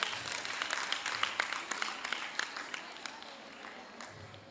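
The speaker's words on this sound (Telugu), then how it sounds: "అందరూ గివ్ హిమ్ ఏ క్లాప్." An audience at a college event applauds together, a steady patter of many hands clapping at moderate distance that continues evenly throughout.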